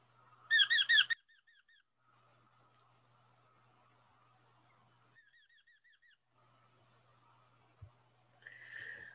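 A person mimics the call of a hobby falcon at a nest, giving short bursts of rapid, repeated high chattering notes that start loud and then fade to faint, with quiet gaps between.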